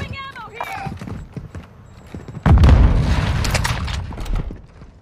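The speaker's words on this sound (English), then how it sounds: "somebody just threw a grenade at me." A grenade detonates in a first-person shooter video game, a sudden loud, close boom at mid-clip that rumbles on for a couple of seconds over background game sounds and a voice.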